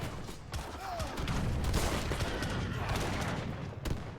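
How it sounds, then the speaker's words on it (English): Culverins fire on cannons in a strategy game battle, a dense continuous rattle of gunfire volleys and booms, with a few sharper shots standing out near the end. "Cannons getting sniped by the culverins."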